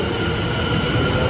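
A train arrives at a station in London, its carriages giving a loud, continuous rumble with a steady roar and faint metallic ringing from the wheels, heard close and without talk.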